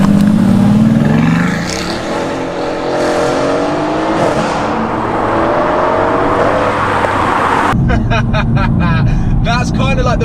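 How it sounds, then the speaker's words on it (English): A Renntech-tuned Mercedes-AMG GT S accelerating hard and breaking traction, its loud engine roaring and climbing through the revs inside the cabin, with a voice speaking over it near the end. "That's kind of like the first acceleration of the day though"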